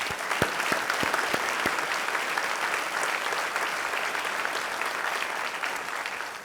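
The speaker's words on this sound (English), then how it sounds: "So please let's give him a round of applause as well." Steady applause from an audience at a mayoral inauguration ceremony, dense clapping that fills the whole stretch with a few sharper claps near the start.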